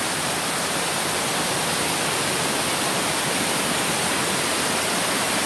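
Waterfall with many stepped tiers in a village near Batu, Banggai, Central Sulawesi, heard as a steady, dense roar of falling water, close and continuous with no voices.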